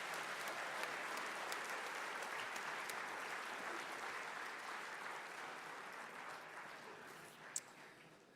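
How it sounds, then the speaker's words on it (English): An audience at a sports hall of fame induction ceremony claps steadily in a large hall, sustained dense applause that slowly thins toward the end. "Let's give them all a nice round of applause."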